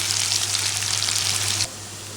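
Spices for a Bengali-style jackfruit curry sizzling in a hot pan, a dense bright frying hiss that cuts off abruptly near the end, leaving only a low hum.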